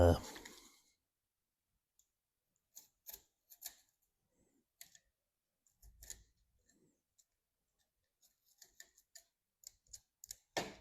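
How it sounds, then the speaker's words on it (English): Scissors trimming jagged edges off a window screen patch, heard as sparse, faint snips and clicks scattered through near silence, with a brief louder rustle at the start. "All I'm doing is just trimming the little jagged pieces off"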